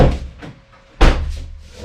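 A BMW E46 car door handle is worked and the door is shut, giving a few soft clicks and rustles and then a loud, close thump about halfway through, followed by a brief low rumble.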